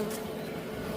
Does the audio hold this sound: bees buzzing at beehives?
yes